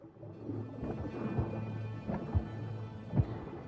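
Thunder from an approaching storm rolls low and heavy in Thalassa: Edge of the Abyss, with a sustained rumble and several deeper swells under a hum of rain.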